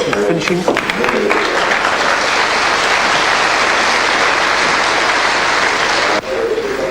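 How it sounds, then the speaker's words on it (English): Sustained applause and cheering fill a large arena for a weightlifter in the 60 kg class at the 1982 Commonwealth Games, dense and steady throughout before dipping briefly near the end. "There's a crowd really appreciating this effort from young Dean Willey."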